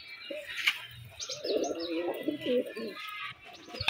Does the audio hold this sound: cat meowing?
no